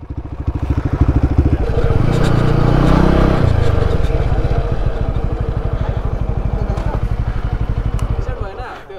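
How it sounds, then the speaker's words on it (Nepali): A Crossfire motorcycle push-started on an offroad lakes circuit, its engine catching into a loud rapid thumping idle that swells then settles, with voices talking over it nearby. "धकाले स्टार्ट गरियो क्रस फायर"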